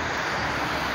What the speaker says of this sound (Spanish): Ya tenemos la avioneta de las espías.